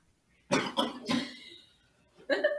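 Two quick coughs close to the microphone, followed by a drawn-out throat-clearing and then another short cough after a brief gap.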